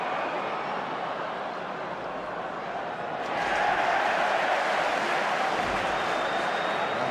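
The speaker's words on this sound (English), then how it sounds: "the Scots in the crowd anyway, clapping because the put in to the scrummage is going to Scotland" Scattered clapping from Scots fans in the crowd at a Scotland vs England Five Nations rugby match in Edinburgh, a steady broad wash of applause that swells louder partway through and holds.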